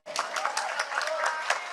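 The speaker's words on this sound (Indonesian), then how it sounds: "Tepuk tangan untuk Pak Menko." Brief applause from a gathering of village heads at a speech by Indonesia's agriculture minister, scattered clapping for the coordinating minister lasting under two seconds, with voices talking over it.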